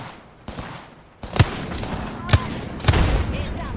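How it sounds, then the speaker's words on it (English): Gunfire in the Apex Legends video game, several loud close shots and bursts cracking out over a continuous rumbling battle background, with a voice speaking in between. "Listen up, I'm getting shot at."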